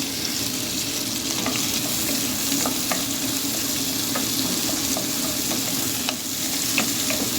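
Garlic and onion sizzle steadily in a hot pan, a dense, constant frying hiss with faint scraping clicks of stirring scattered throughout, close and without talk.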